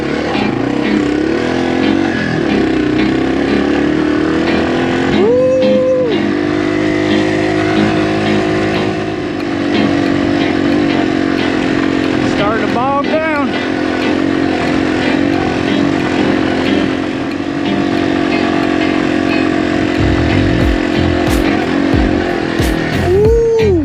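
Yamaha TW200 motorcycle engine droning steadily while climbing a sandy hill, loud and close throughout with shifts in pitch as the throttle changes, no talk over it.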